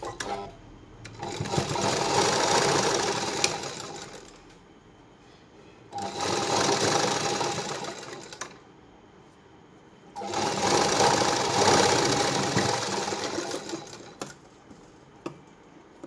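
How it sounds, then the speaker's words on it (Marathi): Sewing machine stitching a blouse, running in three long steady bursts of rapid mechanical whirring with short quiet pauses between, close and fairly loud with no talking. "आता याच्यावर तुम्ही दाब शिलाई पण देऊ शकतात"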